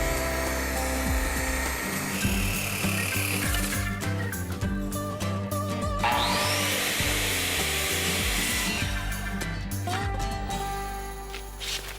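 Power tools cut timber for barn framing, a loud close grinding and whining saw run with rough, shifting tones and short scraping bursts throughout.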